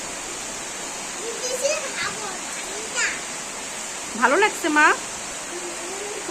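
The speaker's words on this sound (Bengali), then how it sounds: "অনেক জোরে বৃষ্টি হচ্ছে" Heavy rain pours in a constant dense rush while a child and an adult speak briefly over it.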